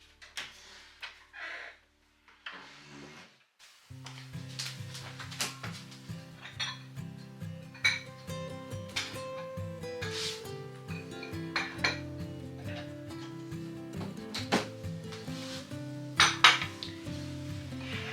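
Vintage Arabia Valencia ceramic dishes and cups are handled at home, with repeated light clinks and clatters of porcelain against porcelain, close and fairly faint, over a soft background hum and no talk.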